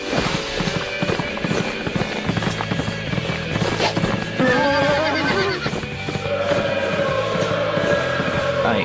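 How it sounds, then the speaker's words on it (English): A horse whinnies loudly several times over rapid clip-clopping hooves, with a busy, noisy background and some faint voices. "I think he's riding a wild horse."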